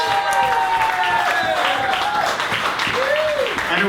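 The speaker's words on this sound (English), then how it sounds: "let's give an applause to live music" Crowd applause at a music awards event, steady and fairly loud throughout, with cheering voices and a speaker talking over it.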